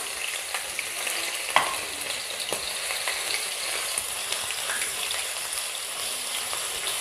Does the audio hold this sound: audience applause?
no